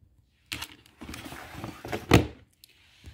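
A vanity drawer slides and closes in a dull thunk, preceded by a few softer rattles and scrapes of its contents, fairly close and with no talk.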